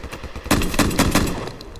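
Gunfire in the video game Minecraft, a quick burst of four or five sharp, evenly spaced shots fired in rapid succession, loud and close with no talk over it.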